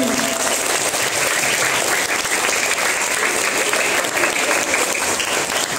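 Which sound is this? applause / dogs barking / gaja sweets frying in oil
applause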